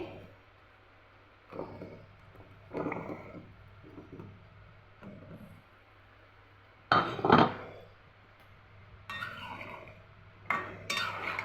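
Taro pieces are dropped into a spiced pan and stirred, with intermittent metallic clinks and scrapes of a utensil against the pan between quiet pauses, including a couple of louder clanks.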